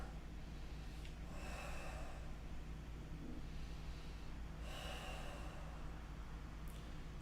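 Slow breathing during a seated yoga twist with a strap, two long airy inhales or exhales about three seconds apart, soft and close over a steady low hum.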